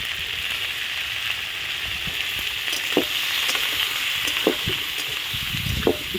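Cauliflower and chicken fry in a pan with salt and turmeric, a steady, close hiss of sizzling oil broken by a few soft knocks of stirring.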